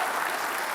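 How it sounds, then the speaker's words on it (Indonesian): Studio audience applause at a televised Jakarta gubernatorial election debate, a brief, dense burst of many hands clapping at steady volume. "kita kasih tepuk tangan"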